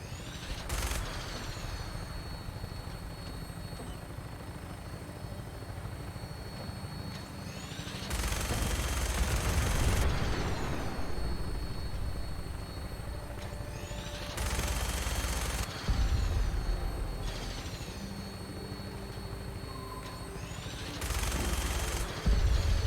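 Sustained automatic gunfire from a vertibird's mounted weapons in Fallout 4, heard as dense rattling bursts over a steady rotor and engine drone, with louder blasts swelling in and out; no voices.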